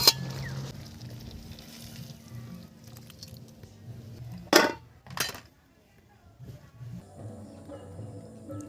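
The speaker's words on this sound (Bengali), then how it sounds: "তরকারি হয়ে গেছে তো এখন আমি ঢেলে নিচ্ছি" Pomfret curry cooked in mustard and poppy seed paste is poured into a serving dish, with a quiet kitchen hush broken by two sharp metallic clinks and scrapes near the middle, close by.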